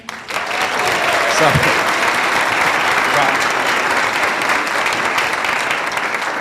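Comedy showcase audience applauding to welcome comedian Kevin Alderman onstage, a dense, steady wash of clapping that swells in quickly and holds loud and full throughout, with a few cheers mixed in.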